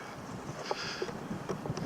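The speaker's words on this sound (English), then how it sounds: "High winds, some strong gusts" High winds with strong gusts buffeting a microphone outdoors, a low rushing roar that swells and dips with a few sharp bumps, steady throughout and no voices.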